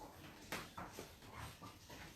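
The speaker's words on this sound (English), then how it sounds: "And that's one of the dogs." A dog at home whimpers in a few short, faint, high whines spaced across a couple of seconds against quiet room noise.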